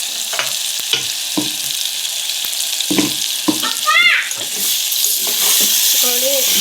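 Brinjal palya frying in an open pan after the lid comes off: a continuous moderate sizzle with intermittent stirring scrapes and a brief squeaky clatter, close and fairly loud.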